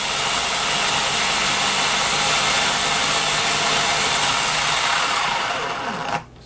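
An RC model's electric motor runs under throttle from a Spektrum DX5 controller, a steady close whine and whir holding level for several seconds, then cutting off abruptly at the end.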